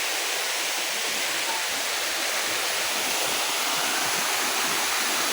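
Nalalata Falls in Bula, Camarines Sur, Philippines, roars in a steady, dense rush of crashing water, loud and unbroken throughout with no voices.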